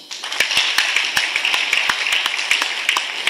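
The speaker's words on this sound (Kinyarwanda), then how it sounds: "Uyu mugabo mumukomera amashyi" An audience at a church ceremony applauds a man with a dense burst of many hands clapping at an uneven rhythm, close and loud throughout with no talking.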